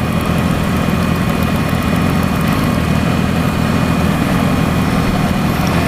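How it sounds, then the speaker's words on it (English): A convoy of motorcycles idles together in the parking lot at Lake Arrowhead, a loud, dense and constant engine roar with no break and no talk over it. "we're motorcycles in a convoy"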